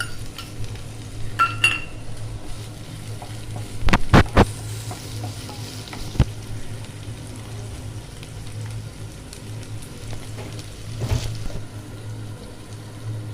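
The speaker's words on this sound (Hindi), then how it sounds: "शिमला मिर्ची है और ये पनीर है, थोड़ा सा फ्राई कर लूँगी।" Capsicum and paneer frying in a pan for a paneer roll, with a low sizzle under a constant hum. Spatula scrapes and sharp clanks on the pan come near 4, 6 and 11 seconds.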